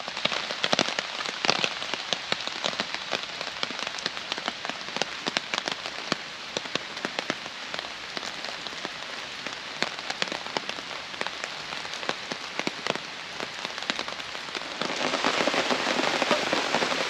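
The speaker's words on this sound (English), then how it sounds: "it's just started raining now" Rain lashing down on a bushcraft camp, a dense, loud, continuous patter of drops hitting close surfaces, steady throughout and growing heavier toward the end.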